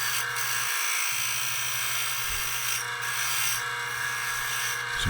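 A woodturning tool cuts shavings from a spinning wooden bowl being carved as a dragon bowl. It makes a continuous buzzing, rasping scrape over a steady lathe hum, close and even, with brief fluctuations.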